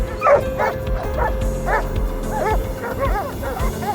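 Hunting dogs drive a wild boar out of hiding, giving repeated yelping barks and excited whines. The calls are close and come in quick overlapping bursts over a steady low rumble, with no speech.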